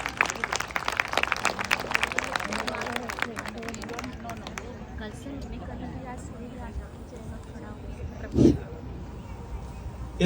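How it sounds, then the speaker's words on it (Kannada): An audience claps after a devotional Ganesha prayer song, Sharana Siddhi Vinayaka. The applause is a burst of scattered claps that fades within a few seconds, followed by a voice speaking over quieter room noise. "ಇನ್ನೂ ಜೋರಾಗಿ ಚಪ್ಪಾಳೆ ಬರಲಿ"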